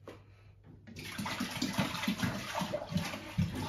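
Juice from a glass home-brew wine fermenter bottle emptied low into a container, a gurgling, splashing pour that starts after a brief quiet and glugs on steadily and close.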